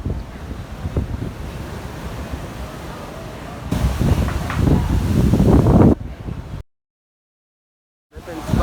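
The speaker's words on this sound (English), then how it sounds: "The sea is starting to get rough" Rough sea surf at St Maarten churns and splashes near a boat or shoreline, with heavy wind buffeting the microphone and a louder wash of waves, then sudden silence before the roar returns.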